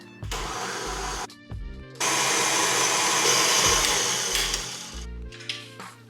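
An electric mixer beats chocolate chip cookie dough in steady whirring bursts: a short run, a brief pause, then a long continuous stretch before the motor winds down, with no talking.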